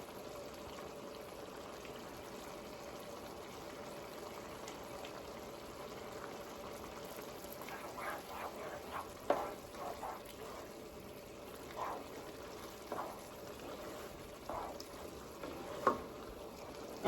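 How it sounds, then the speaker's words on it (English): Broth is poured into a pot of simmering Hoppin' John rice, a soft continuous liquid pour with scattered bubbling and light clinks, fairly quiet and without talk. "I'm going to go ahead and add a little more broth."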